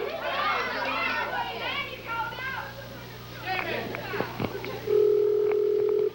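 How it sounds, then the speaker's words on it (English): A single steady telephone ring tone sounds for about a second near the end, after a stretch of overlapping voices talking on a wrestling broadcast call. "Well, it's ringing right now, Jimmy."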